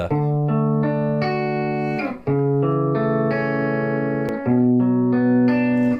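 Electric guitar with gain added for sustain plays a slow melodic solo line, each held note ringing out smoothly into the next, loud and alone with no talking.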